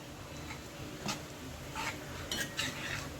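A metal spoon scrapes and clinks against a pan while methi (fenugreek) curry with sesame and peanuts is stirred, several irregular close knocks over a quiet kitchen background.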